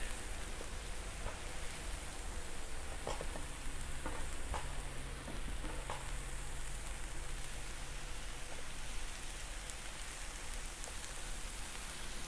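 Broccoli sautéing on a flat griddle while being stirred, a steady close sizzle with soft scraping clicks scattered through, no talk.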